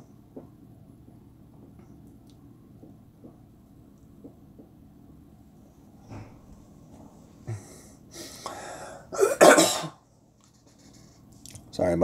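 A person coughing into a microphone during Golf Clash tournament commentary, a couple of harsh, close bursts with breathy noise after a long quiet stretch of low hum.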